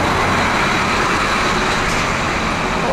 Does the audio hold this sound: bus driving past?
yes